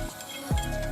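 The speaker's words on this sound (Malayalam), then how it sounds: "ഇതേപോലെ ഒന്ന് കടുകൊക്കെ വറുത്ത്" Mustard seeds fry in hot oil in a home kitchen while a Vishu feast is prepared, giving a faint, continuous sizzle with a brief stirring scrape in the middle.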